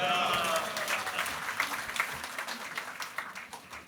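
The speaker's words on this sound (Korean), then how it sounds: "목사님 나오실 때 할렐루야로 하나님께 영광을 돌며 박수로 맞이하겠습니다." A church congregation applauds to welcome the pastor, a broad wash of many hands clapping that gradually thins and softens, with some voices in the crowd.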